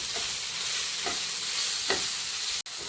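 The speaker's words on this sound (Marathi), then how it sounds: "अशा प्रकारे आपल्याला हे रताळे असं परतून घ्यायचे" Grated sweet potato sautéing in ghee for a fasting kheer, a dense, steady sizzle close up, broken by a few soft stirring scrapes and one sharp click near the end.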